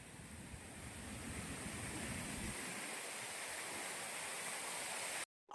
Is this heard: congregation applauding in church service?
no